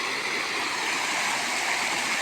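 Water flowing in a stream produces a steady, dense rushing roar, continuous and fairly loud throughout with no breaks, and no voices.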